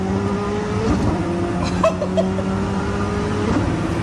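Koenigsegg Jesko hypercar engine pulling hard under acceleration, a loud rising roar with gear shifts around the midpoint, heard close and continuous without speech.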